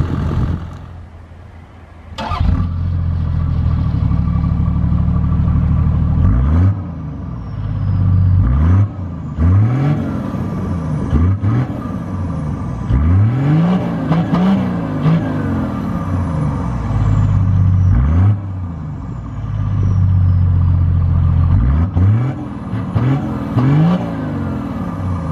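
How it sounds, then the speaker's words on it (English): A Toyota Land Cruiser HDJ81V 4.2L 1HD-T turbo diesel starts up, then revs repeatedly in surging bursts, each rise and fall of the exhaust note loud and close. "show you the exhaust tone that this automobile makes"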